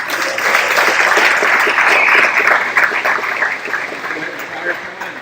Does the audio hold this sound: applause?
yes